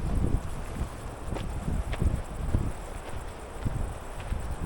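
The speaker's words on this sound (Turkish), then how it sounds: "Yağmurun rüzgarı gelmeye başladı yavaş yavaş" Steady wind ahead of rain blows across the microphone outdoors near Maçka, a low rumbling gust noise with soft fluctuations throughout and no voices.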